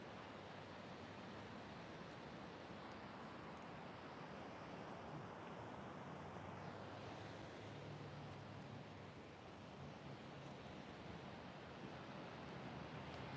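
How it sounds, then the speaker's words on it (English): Ocean surf washes steadily onto an oceanfront shore as a continuous, faint broadband roar with little variation. Nobody speaks and no distinct breaks appear. "always good to just kind of tune into the sound of the ocean"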